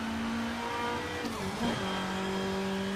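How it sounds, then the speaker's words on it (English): Turbo on a car in the racing game Shift 2 Unleashed, with a whistling whine rising and falling over a steady engine drone, then the engine pulling on, loud and continuous. "I can hear the freaking turbo."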